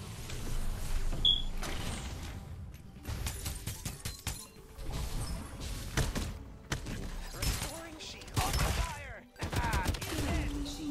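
Rapid bursts of gunfire in the battle-royale video game Farlight 84, sharp cracks and volleys repeating across the whole stretch with brief gaps, loud and close amid other game effects.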